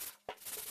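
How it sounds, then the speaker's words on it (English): Hand sanding of wood veneer by block: a brief, close scratchy rubbing, quiet at first, then a sharper stroke that settles into a steady abrasive hiss, with no voices. "and some final hand sanding"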